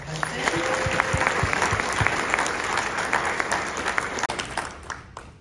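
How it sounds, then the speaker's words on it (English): Sustained applause from a film festival audience honoring an award winner, dense steady clapping throughout that thins out near the end, with some voices mixed in. "So big round of applause for Hudson."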